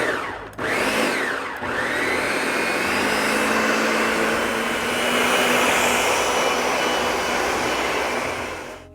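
A blender purees cauliflower in one loud, steady motor whir, starting with a short burst and a brief dip, then running continuously at full speed for several seconds before easing slightly at the end.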